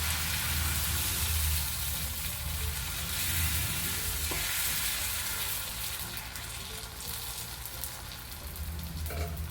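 Neer dosa batter fries on a hot pan with a loud, steady sizzle that fills the whole span, and a faint utensil click comes partway through.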